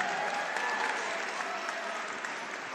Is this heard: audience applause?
yes